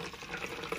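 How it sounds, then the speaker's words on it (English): Green juice being poured, a steady liquid splash running continuously and fairly close for the whole moment, with no talk over it. "why he was pouring some green goodness"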